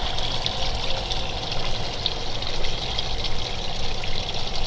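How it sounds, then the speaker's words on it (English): A small backyard waterfall water feature running steadily, a continuous close splashing and trickling wash with no pauses and no voices. "I'm going to sit here and run my waterfall for a little bit"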